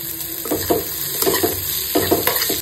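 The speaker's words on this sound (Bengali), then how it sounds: "এটাকে একটু ভাজা হতে দেবো।" Chopped onion and chilli fry lightly in a pan, giving a steady sizzle broken by several short scraping bursts as the pan is stirred, close and moderately loud with no talking.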